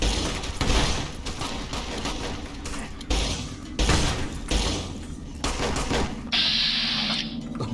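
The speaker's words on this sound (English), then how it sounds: "Right, plasma pistol, plasma pistol." Bursts of weapon fire in the Fallout New Vegas game, several sharp broadband blasts at irregular intervals over a busy, noisy background, followed by a hissing energy burst near the end.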